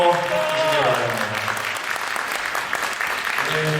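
Steady applause from a crowd at a wedding ceremony fills a convention grand ballroom, with a voice speaking over the start before the clapping carries on alone.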